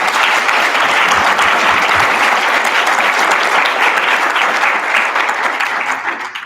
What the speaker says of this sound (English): First, let's give our panel a round of applause.